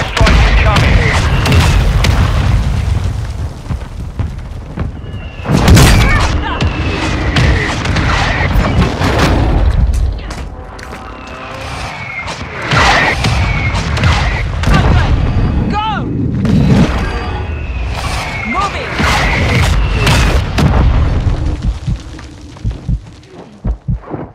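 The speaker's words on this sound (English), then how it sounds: "Hostile mortar strike near your position. Hostile airstrike incoming." Mortar and airstrike explosions in the Warzone 2 video game, with repeated heavy booms and rumbling impacts throughout, overlapping gunfire, and in-game voice callouts over the blasts.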